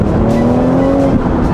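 BMW M4 convertible engine running loud and close, a steady throaty drone with a slight rise in pitch, filling the whole moment with no talking.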